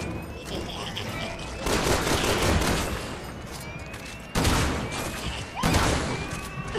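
Bursts of rapid gunfire in the video game Resident Evil 6 come in several dense volleys separated by quieter stretches, loud and close, over the game's background sound.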